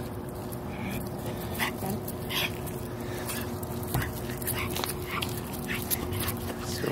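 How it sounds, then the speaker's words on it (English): A short-legged dog whimpers and yips in soft, repeated bursts, close by, over a low steady background with faint voices. "There's like a demon looking dog over there."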